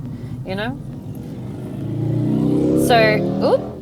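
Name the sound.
chopper motorbike passing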